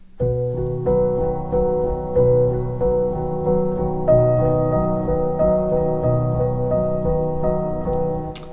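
Piano plays the opening pattern of a piece from Final Fantasy IX, a steady sequence of sustained low and mid notes repeating evenly, close and unaccompanied.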